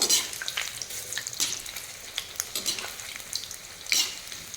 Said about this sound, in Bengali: উল্টিয়ে পাল্টিয়ে ভেজে নেব।